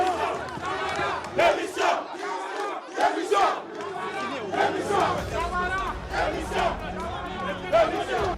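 An angry crowd of protesters at a university shouts and chants together, loud and sustained, in rolling waves of overlapping voices.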